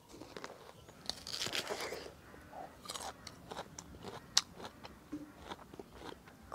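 Crisp fresh green jujube is bitten and chewed up close, with crunchy snaps and juicy chewing sounds arriving in irregular bursts.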